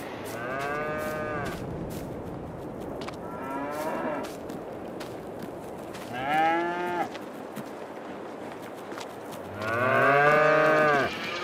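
Cows moo in the Farming Simulator 22 video game on a farm, with four separate drawn-out calls spread across the stretch. The last call is the loudest and fullest, and the calls sit over a steady background bed with no talking.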